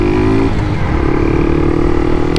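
A motorcycle engine runs loud and close in a continuous rough drone, with its pitch dropping and then holding steady as it cruises along a street.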